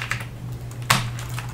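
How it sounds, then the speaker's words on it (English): A replacement keyboard being fitted into a Dell Latitude D620 or D630 laptop. Sharp plastic clicks and taps sound up close, one louder snap standing out among lighter ticks over a low hum. "put your new keyboard in. Just line up the connection there."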